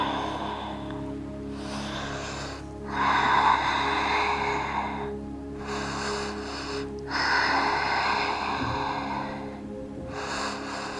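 Slow, deep breaths during a calming yoga practice, several long inhales and exhales through the nose spread over the stretch, soft and close, with no talking.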